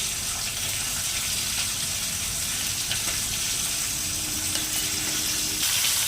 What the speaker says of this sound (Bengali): দেখুন মাছগুলো ভাজা হয়েছে